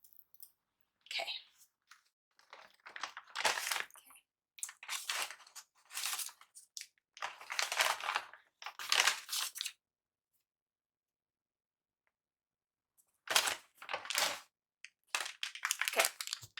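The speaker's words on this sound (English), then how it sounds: "So it's in a paper bag, so there may be some crinkling noises." A paper bag holding yarn crinkles and rustles as it is opened, in close, quiet bursts of crackling separated by short pauses and a longer silent gap near the middle.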